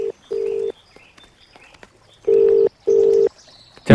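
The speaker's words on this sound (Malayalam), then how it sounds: "ചേട്ടാ, ഫോൺ." A telephone rings in a scene from a Malayalam-dubbed movie: one steady electronic tone burst, a pause, then a closely spaced pair of bursts. The ring is loud and clear, with no talking over it.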